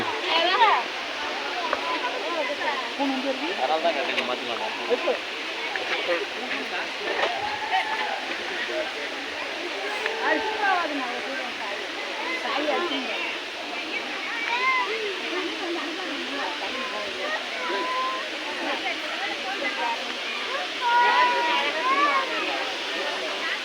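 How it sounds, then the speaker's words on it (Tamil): A waterfall sends up a steady, unbroken rush of water that fills the whole scene, with people talking close by over the constant roar. "இதுதானா ஃபால்ஸ்?"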